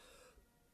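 A single short, sharp cough bursts out at close range at the very end, following a quiet stretch with a faint tonal hum that fades away; nobody speaks.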